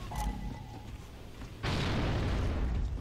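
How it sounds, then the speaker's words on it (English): A grenade blast in a Gears of War match lands as a sudden loud boom partway through, followed by a sustained rumbling roar after a quieter stretch of game ambience. "Nades are going out."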